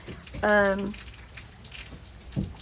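Rain falls steadily, a soft, even patter of drops on surfaces heard at a distance, with a brief tonal voice sound near the start and a faint thump later.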